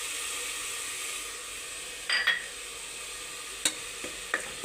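Chilli powder frying in oil with ginger-garlic masala for an Andhra-style stuffed brinjal curry: a soft, steady hiss with a few brief scrapes and clinks of stirring, fairly quiet and close, with no voices.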